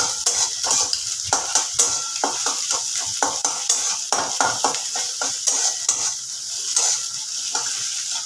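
Bottle gourd curry gets mixed in a pan: quick, repeated spatula scrapes and clinks against metal keep a busy rhythm over a soft frying sizzle, close up and without talk.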